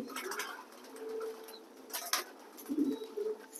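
Racing pigeons in a loft giving soft, low coos, a few brief calls close by with faint rustling in a quiet space.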